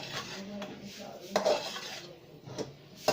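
Carrot halwa stirred in a pot with a metal spoon, a few scraping and clinking strokes against the pot sides over a quiet background, with one louder knock partway through.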